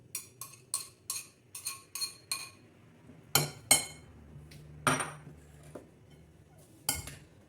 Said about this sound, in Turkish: Karıştıralım salatamızı.